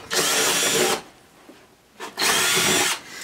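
A power drill drilling a hole through an insulated shipping box whirs loudly in two bursts, each about a second long, with a brief quiet pause between them.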